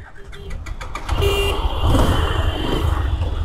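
A Bajaj Pulsar 150 SD motorcycle starts up with a brief whine, then its engine rumbles loud and close as it pulls away, building steadily through the rest.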